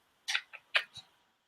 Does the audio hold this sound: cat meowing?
yes